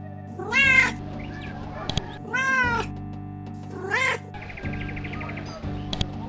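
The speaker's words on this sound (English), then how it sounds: "This is a cat." A cat in the Blades of Avernum video game gives several short meows in a row, clear and close, over a quiet droning game background.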